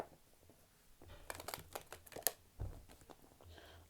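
Tarot cards are shuffled by hand during a card reading, a quiet, close-up flurry of papery riffles and slaps bunched in the middle, fading to near silence at the edges.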